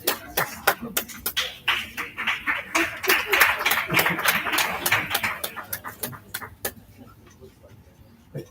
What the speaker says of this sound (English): can we have another round of applause for all of the award recipients?